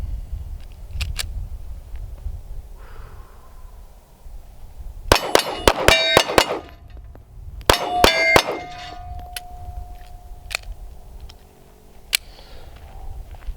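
Two quick volleys of 9mm shots from an XD-S Mod 2 compact pistol ring out against steel targets, each hit a sharp metallic clang with ringing decay, the second volley leaving a sustained tone over quiet outdoor background.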